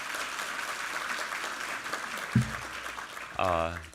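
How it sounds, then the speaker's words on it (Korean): A church congregation at a Sunday service claps in thanks to God, a continuous moderate patter of hands, with brief voices cutting in over it toward the end. "우리 하나님께 감사와 영광의 박수 올려드리겠습니다"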